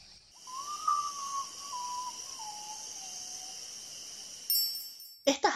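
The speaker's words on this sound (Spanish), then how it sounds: "Para esa misma hora, despierta y abandona su total quietud el Urutaú, a la orilla del bosque." A common potoo calls at dusk from a forest edge in grassland and wetland country: a faint, slow series of mournful whistled notes falling in pitch, heard alone over quiet ambience, followed by a brief knock at the end.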